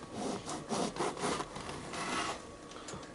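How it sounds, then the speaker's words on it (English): A knife saws through a loaf of French bread in soft, rhythmic back-and-forth strokes, a quiet crusty rasping heard close up without any talking. "take your loaf of French bread and just half-inch thick little slices"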